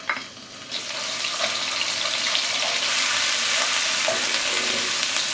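Ginger, garlic and cumin seeds frying in hot olive oil on a gas stove, a steady loud sizzle that jumps up after a quiet start and crackles on without letup.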